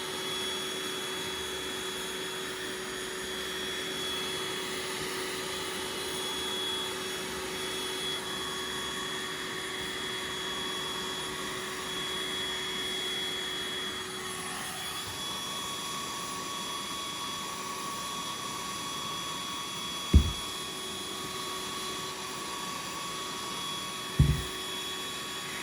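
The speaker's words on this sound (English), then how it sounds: "is get the old hoover on it and it kind of lifts it." A household vacuum cleaner runs steadily at close range, lifting static grass fibres on a model railway layout, with a constant drone and two brief sharp knocks near the end.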